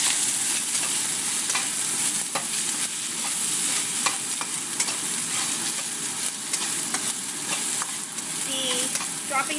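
Onions stir-frying in a wok with ginger and garlic, a steady close sizzle with scraping stir strokes throughout, no talking.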